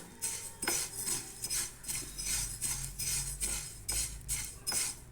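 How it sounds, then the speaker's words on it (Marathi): A utensil scrapes and stirs a cup of sesame seeds roasting in a pan for tilgul ladoos, producing soft rhythmic scraping strokes about twice a second, close and quiet, with no voices. "तर आता मी हे तीळ भाजून घेत आहे"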